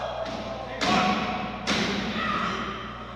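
A wrestler's power drive elbow lands in the ring at an independent women's wrestling show: two loud thuds about a second apart, under continuous crowd noise and play-by-play commentary.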